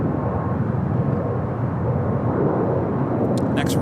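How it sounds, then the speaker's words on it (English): A one-year-old Frontier Airbus A321neo departing LAX for Portland gives a continuous, fairly loud engine roar throughout, with a few faint clicks near the end. "It's Frontier Flight heading to Portland. It's a 1-year-old A321 Neo."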